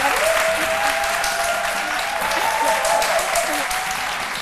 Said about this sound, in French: on applaudit pour deux raisons